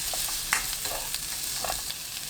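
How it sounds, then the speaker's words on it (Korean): Onion stir-frying in a hot pan with cooking oil and sliced garlic over high heat, a steady close crackling sizzle with scraping stirs throughout. "양파 넣고 30초 볶습니다."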